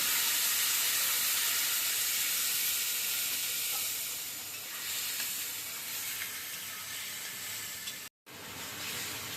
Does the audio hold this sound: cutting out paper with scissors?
no